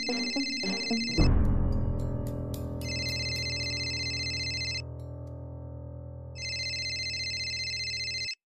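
A telephone ringtone sounds in repeated electronic bursts, bright and regular, starting after a brief musical sting and pausing between rings, with no talking.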